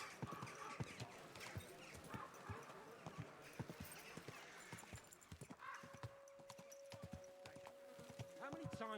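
Hooves clip-clop in a steady walking rhythm from a horse in Kingdom Come: Deliverance II, close and distinct throughout, with a brief horse whinny and a sustained tonal note in the second half.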